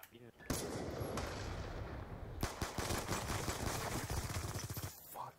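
Rapid bursts of automatic gunfire from a Black Ops 2 one-on-one match rattle loud and close, with a louder stretch of quick rhythmic shots in the second half and a brief lull near the start.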